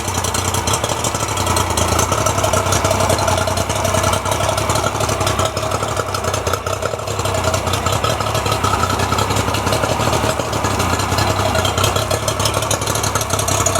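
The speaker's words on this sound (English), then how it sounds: "It idles a lot smoother." An outboard engine on an old bass boat idling close by, a loud, steady, even rumble with a light rhythmic knock that holds unchanged for the whole stretch.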